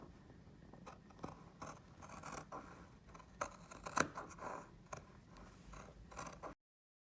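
Scissors snip through fabric close to a seam while sewing a pet project, giving a series of soft, irregular crisp cuts at close range with no talking.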